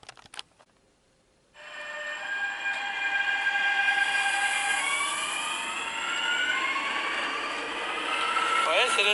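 A fast train serving the Île-de-France region rushes past after a brief quiet moment, its roar swelling quickly and holding loud and steady with high metallic whines and squeals along the rails.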